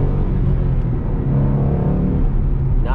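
A stock 2012 Ford Mustang GT with the 5.0 engine is floored in second gear, giving a loud, steady low rumble and rising engine drone heard from inside the car with no talking.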